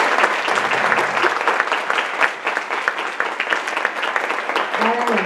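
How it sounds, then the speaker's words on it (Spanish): Audience applause for a teacher at an academic event, dense steady clapping from a room of people, continuous and close, with a voice beginning to speak near the end. "otro aplauso para el maestro Carlos Díaz"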